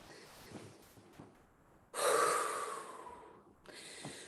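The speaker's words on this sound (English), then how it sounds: "Breathing deep into your belly, Buddha belly" Deep breathing during a guided relaxation session, with a long, close, strong exhale in the middle and softer breaths before and after, no talking.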